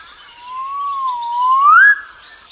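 A magnificent riflebird gives a single clear, loud whistled call that holds steady, then sweeps upward to a sharp peak and cuts off abruptly.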